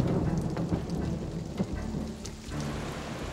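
Steady rain pours with low rolling thunder beneath it, a dense continuous storm wash that stays loud and close throughout, with no voices.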